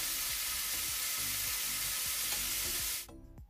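Steamed buns for oxtail frying in a pan: a loud, steady hiss of sizzling oil with faint scraping, cut off abruptly near the end as a lid covers the pan, leaving quiet crackles.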